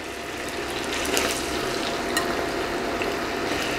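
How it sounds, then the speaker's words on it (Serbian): Steady, continuous sizzling of potatoes frying in hot oil, a dense crackling hiss with small pops, close and fairly loud throughout. "Ulje se ugrejalo i sada spuštam krompir i pržim dok ne bude gotov."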